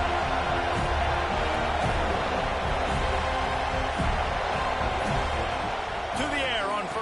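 Stadium crowd at a football game, a dense continuous roar of many voices with rhythmic thumps, commentary speech running over it.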